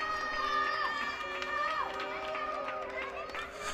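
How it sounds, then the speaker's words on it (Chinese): Crowd noise from people on balconies in France cheering for medical workers, a steady wash of distant shouting and whistling voices with tonal calls over it, continuous and fairly loud throughout. "大家都站在阳台上，都在欢呼，大家都在鼓掌"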